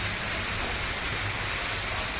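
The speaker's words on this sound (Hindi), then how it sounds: "ये देखो फिर बारिश गिरनी स्टार्ट होगी।" Heavy rain falls steadily, a dense, constant hiss of drops hitting the ground that stays loud and even throughout, with no voices.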